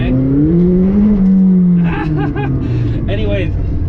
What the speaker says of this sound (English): Let's get a couple little pop-pops here